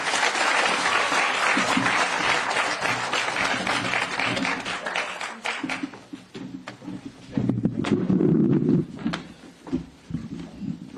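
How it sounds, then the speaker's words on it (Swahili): An audience at a Kenya Kwanza political meeting with people with disabilities in Nairobi County claps loudly in sustained applause that gradually thins into scattered claps, with a brief renewed burst later. "Makofi, makofi, makofi."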